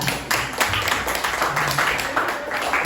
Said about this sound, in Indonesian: kita tepuk tangan dulu untuk kelompok 2.